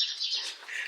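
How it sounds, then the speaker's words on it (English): Small birds chirp and tweet in quick, bright bursts, played indoors inside a house, fairly faint and steady with no other sounds. "Why the heck do you have birds playing?"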